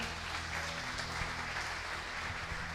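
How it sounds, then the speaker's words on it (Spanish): Applause from a church congregation at an Alianza Christian fellowship service after an interview with a guest preacher, a soft, steady wash of clapping heard from a distance, fairly faint, with a low hum underneath throughout. "Le damos un aplauso a Yura."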